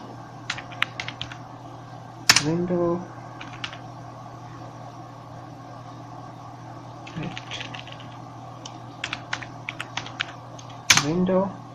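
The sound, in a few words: typing code on a computer keyboard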